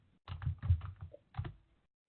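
Command-line input is typed on a computer keyboard in a Linux lesson, heard as several short, close clusters of muffled key presses separated by brief pauses, with a quiet tail.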